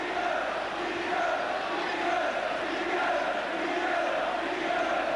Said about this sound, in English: the chant from the crowd, if you can follow the Geordie accents, appears to be Bobby Robson